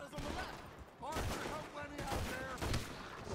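Pistol gunfire in a Red Dead Redemption 2 shootout, rapid overlapping shots mixed with other game sounds, fairly quiet overall with a voice talking over parts of it.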